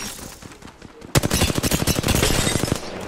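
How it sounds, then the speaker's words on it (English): L-Star energy light machine gun firing in Apex Legends, a close, loud, rapid stream of evenly spaced shots that starts abruptly and runs steadily to the end over background game noise. "He's shooting a fucking L-Star at me."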